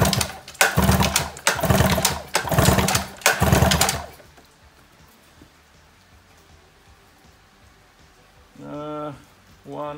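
A 15–18 hp two-stroke engine cranked at full throttle during a compression test, four loud rhythmic cranking bursts close up, then near silence and a brief short mechanical sound at the end.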